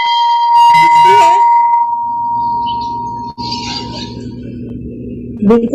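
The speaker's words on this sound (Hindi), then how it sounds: "मंदिर की घंटी।" A temple bell rings with a sustained, pure tone that hangs on for several seconds, struck again with a brief metallic clang, then a lower steady hum fills the background.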